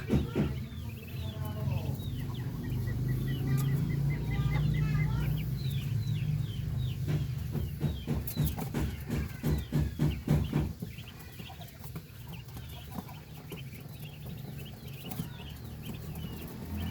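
Many small chicks of various colours peep continuously as a dense, busy chorus, with louder clucking fowl mixed in nearby and steady chattering throughout.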